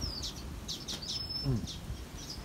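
Pet canary and other birds in a home aviary, faint high chirps and tweets scattered through the moment, mixed with low background noise and a brief voice.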